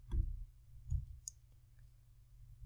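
A few quiet, sharp computer mouse clicks, spaced apart and close, sound while masks are being edited in image-editing software.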